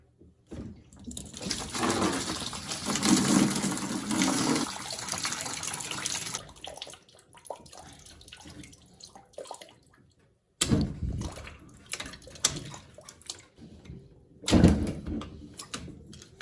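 Water pours and splashes steadily from a hot water supply pipe during a water softener install, then trickles and drips more quietly with a few brief renewed gushes.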